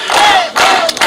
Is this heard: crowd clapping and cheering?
yes